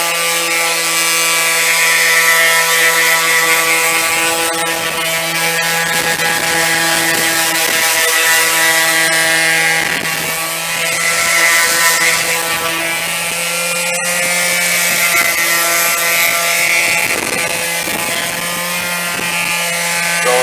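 Power sanding pad on a second pass with 2000-grit paper, removing oxidation: continuous loud mechanical whir with steady tonal hum and rattling texture, running unbroken for twenty seconds.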